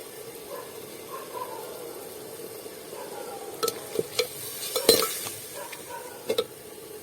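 Onions and tomatoes sauté in a pan for catla fish curry with mango, a low steady sizzle broken by a few sharp clinks and scrapes of a spoon against the pan, close by, without talk.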